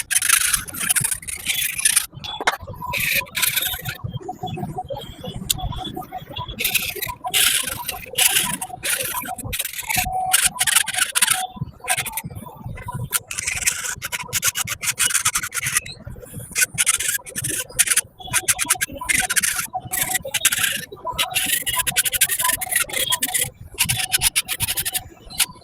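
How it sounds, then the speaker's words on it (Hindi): A nail drill grinds away a thick gel polish flower from a fingernail with a steady, gritty rasp that varies in intensity throughout. "पहले फ्लावर को ड्रिल करके निकालते हैं।"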